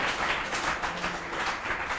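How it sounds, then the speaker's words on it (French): A church congregation applauding during a worship service, a steady dense wash of clapping that holds at even loudness for about two seconds with no voices standing out. "Applaudissez pour Jésus-Christ"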